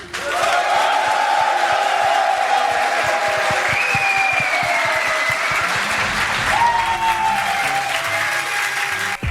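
A large esports tournament crowd applauds and cheers loudly and continuously. A few shouts rise above the dense clapping, and the noise runs unbroken from start to end.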